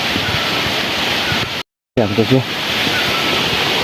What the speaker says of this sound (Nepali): वाटरफल चाहिँ यस्तो छ है।